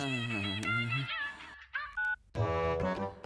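A mobile phone ringing with a bright electronic tone in a Tamil comedy scene, several short melodic bursts with pauses, clear and close with no talk over it.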